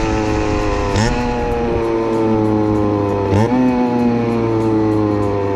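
A 50cc motorcycle engine hums steadily, with two quick throttle blips as gears shift down, the pitch jumping briefly then settling lower, smooth and close.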